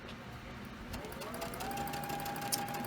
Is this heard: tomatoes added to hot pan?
no